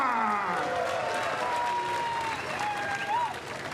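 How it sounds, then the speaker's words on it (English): A crowd at a BattleBots Proving Grounds event applauding both robot teams, loud sustained clapping and cheering in a large space, with voices and whoops rising over the applause. "let's give both teams another round of applause, ladies and gentlemen, and let's do this"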